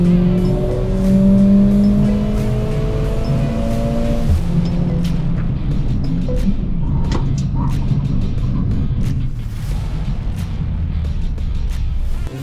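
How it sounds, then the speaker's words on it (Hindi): A Mercedes-AMG A45 S 4Matic+ hatchback accelerating hard from 0 to 100 km/h with traction control off, its loud continuous engine and exhaust note rising through rapid gear changes, close and steady throughout. "इसकी रफ्तार के साथ साथ आपको इस गाड़ी का एग्जॉस्ट नोट भी सुना देता हूँ।"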